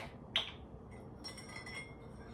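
A teaspoon clinks against the side of a teacup once, sharp and close, followed by softer faint clinks of stirring against quiet room tone; no talking.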